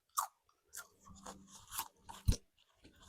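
Crunchy bites into food during a bodybuilding contest-prep meal: several sharp, close crunching bursts with quieter chewing between them, then one loud bite near the end, with no talking.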